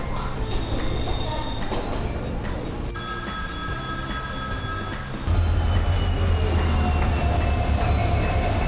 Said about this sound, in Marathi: एक वाजून दहा मिनिटांनी असणारी ही ट्रेन दीड वाजता स्टेशनला पोहोचली